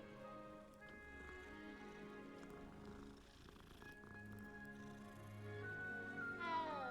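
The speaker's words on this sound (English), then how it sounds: "Time to pet the cat." A cat meowing while being petted inside a video game, faint and drawn out over a steady layer of game music, with a rising tone at the end.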